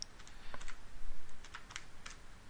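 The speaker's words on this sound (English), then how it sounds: "Typing it off to the side to make sure first." Light, quick keystrokes tap on a computer keyboard in irregular clusters, close and fairly quiet, with no talking.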